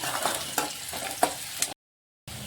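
Onions and garlic fry in a pan while a spoon stirs them in a few scraping strokes over a steady close sizzle, which cuts out briefly before resuming.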